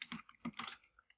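Keystrokes on a computer keyboard typing into a command prompt, several quick separate clicks in an uneven rhythm, close and fairly quiet with no talking.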